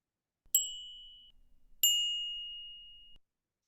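Two sonified data sets play as bell tones, each a single bright metallic strike ringing out and fading slowly, the second following about a second later in a quiet setting.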